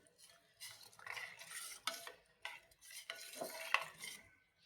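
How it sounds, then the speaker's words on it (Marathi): Rice kheer is cooking in milk and stirred with a metal spoon in a pot, giving irregular scraping and clinking strokes, close and fairly quiet. "मी ही खीर शिजवून घेत आहे सतत ढवळत"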